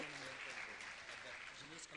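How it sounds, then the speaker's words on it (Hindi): An audience at a Jain gathering with a Jain monk claps to honour donors to a cow shelter, a faint, continuous patter of applause mixed with voices. "जोरदार सभी पुण्यार्थियों के लिए ताली बजाकर"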